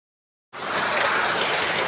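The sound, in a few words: rain and gushing water during flooding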